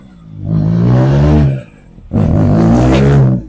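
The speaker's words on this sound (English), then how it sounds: "I think someone's trying to bed their brakes in." A car accelerates hard in two loud bursts while bedding in its brakes, each a rising engine roar lasting over a second, with a short lull between them.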